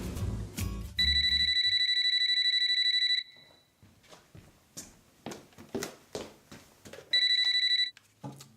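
A household telephone rings with a bright, steady electronic trill, one long burst then a shorter one, and a voice speaks in the gap between them.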